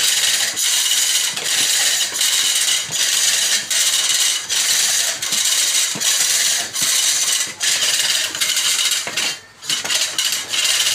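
A four-blade sugarcane peeling machine whirs and clatters as a stalk is fed through, producing a steady mechanical grinding with rapid rattling pulses and brief scraping bursts, loud and close throughout.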